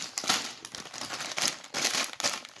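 Plastic bags from a Lego City set being handled, crisp crinkling and rustling in several bursts, close and moderately loud with short pauses between.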